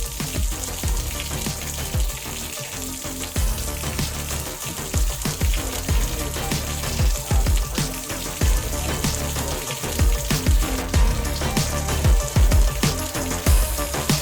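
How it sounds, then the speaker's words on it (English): A garden hose pushed into a roof gutter to break up collected mud, with water splashing and gurgling continuously, crackling and spattering like rain on a surface as the muck flushes loose. "he's pushing the hose in to kind of use the hose as a way to kind of break up the mud"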